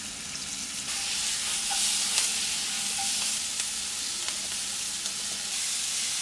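Vegetables frying in oil in a pan for chickpea burgers, a steady close sizzle with occasional stirring scrapes and pops.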